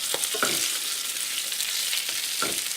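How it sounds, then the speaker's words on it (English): Spinach being stirred into chicken in a hot pan, steady close sizzling with a few scraping strokes of the utensil against the pan. "I'm gonna stir the spinach in"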